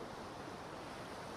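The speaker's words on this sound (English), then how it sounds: "the gentle lapping of small waves against the boat's hull" Small ocean waves lap gently against a boat's hull, a soft, steady wash of water that stays faint and even, with no voices.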